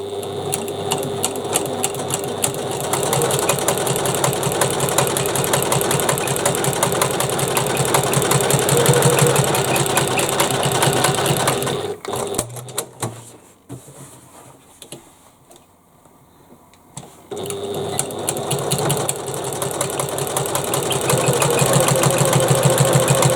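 Sewing machine top stitching a bag, a fast steady whirring stitch run that stops briefly midway and then starts again, close and loud with no voices.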